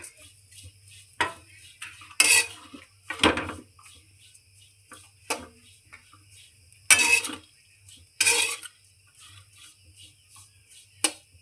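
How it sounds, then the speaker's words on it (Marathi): Finely chopped dry coconut roasting in a pan, heard as scattered scraping and clinking strokes of a spatula against the pan, irregular and fairly close, with quiet stretches between stirs. "आता आपण बारीक चिरलेले खोबऱ्याला थोडस भाजून घेऊया"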